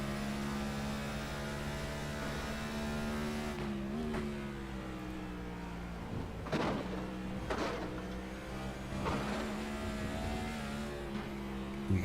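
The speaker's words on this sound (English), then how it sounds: "You can hear the under tray of that car just clattering when he comes over those curbs" Race car engine in the iRacing game drones at steady pitch with a shift around the middle, while sharp bursts of clattering from the under tray hitting curbs cut in several times near the end.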